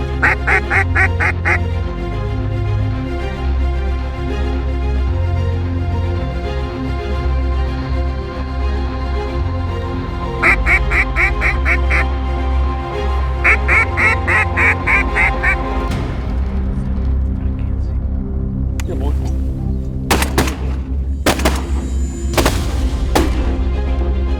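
Ducks quack repeatedly in bursts during a duck hunt, the calls close and loud over a steady outdoor background, with a few sharp bangs near the end that could be gunfire.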